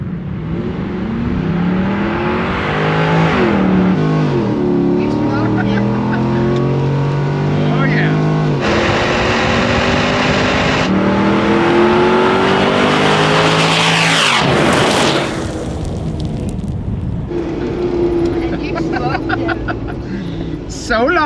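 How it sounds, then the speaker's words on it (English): An LS3 Corvette-engined Land Rover Defender drag races a Land Cruiser, its V8 revving hard and climbing through gears, loud and close, with people talking and shouting over the engine. "we're gonna drag race the Defender and the Land Cruiser"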